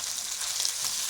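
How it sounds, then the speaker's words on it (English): Garlic and other ingredients for a potato and peas curry fry in a pan, giving a continuous, close hiss of sizzling oil with no voices. "ingredients here that are frying away."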